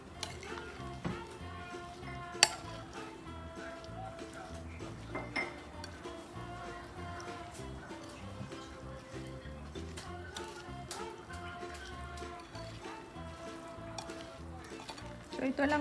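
Japanese-style mashed potato salad being mixed with mayonnaise in a bowl, soft continuous squelching and stirring with occasional light clinks of utensil against the dish, close and fairly quiet, with a faint tonal background.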